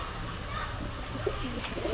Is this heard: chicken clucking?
no